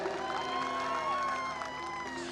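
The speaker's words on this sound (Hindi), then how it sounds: "भगतजनों एक बार जोरदार तालियां बजा दो पहले तो" A crowd of devotees at a patriotic song gathering claps and cheers loudly, sustained applause with shouts and whoops from many people at a distance.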